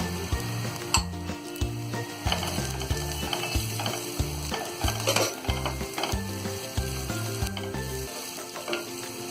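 Green chillies and turmeric powder frying in hot oil: continuous sizzling with rhythmic clanking and scraping of a spoon being stirred in the pan, loud and close.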